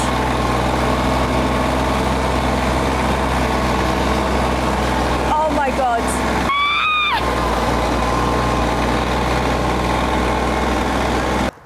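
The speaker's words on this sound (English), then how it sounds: "That was a crash course in driving a manual tractor." A manual tractor engine runs steadily at a loud, close, constant drone throughout, with a couple of brief high squeals partway through and no talking.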